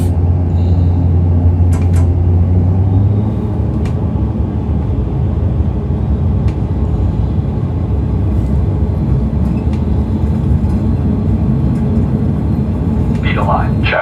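An ATR72-500 turboprop on its takeoff roll in the Prepar3D V5.1 flight simulator, a loud steady engine and rolling drone with an early low hum that fades, plus occasional clicks and a brief voice near the end.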